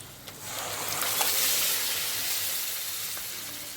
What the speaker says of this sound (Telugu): ఇప్పుడు పప్పు వేసేస్తున్నాను.